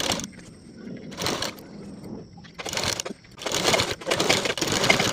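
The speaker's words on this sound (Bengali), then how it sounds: "ঠিক এভাবে সোজা পাশে বসিয়ে আমি সেলাই করে নেব" A sewing machine stitching a waistband onto a blouse, running in short bursts of rapid mechanical whirring that stop and start, with quiet pauses between runs.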